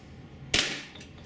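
One sharp, close shot from a Tiberius T8.1 .68 caliber paintball pistol cracks out with a short hissing tail of released gas, alone in a quiet space.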